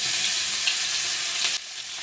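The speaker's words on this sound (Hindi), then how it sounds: "गैस का फ्लेम मीडियम करके इन्हें हम थोड़ा भून लेंगे" Ginger, garlic and green chili fry in hot spiced oil over a medium flame, a loud, steady hiss and crackle that drops a little near the end.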